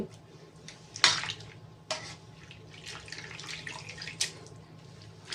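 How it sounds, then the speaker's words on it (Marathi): Water with grated potato sloshes and splashes in a pot in a few sharp bursts over a quiet background hum, close and fairly soft. "हे पिळून हा जो किस आहे बटाट्याचा ह्याच्यामध्ये मी टाकते"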